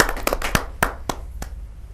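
Sparse, distinct hand claps from an audience at a Hindi poetry gathering greeting a poet, a few sharp isolated claps spaced unevenly and fading rather than a full ovation.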